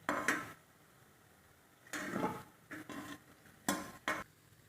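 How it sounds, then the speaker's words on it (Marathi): Balushahi sweets being lifted one at a time from hot frying oil, with a series of short, close scraping and clinking bursts from a ladle in the pan, separated by quiet pauses over a faint sizzle. "आपल्या बालुशाह्या छान तळलेल्या आहेत, आता मी एक एक काढून घेते"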